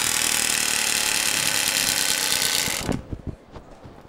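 A Tomax Turbospoke bicycle device on a spinning wheel gives a loud, buzzing motor-like rattle that holds steady for nearly three seconds, then cuts off into a few slowing clicks as the wheel winds down.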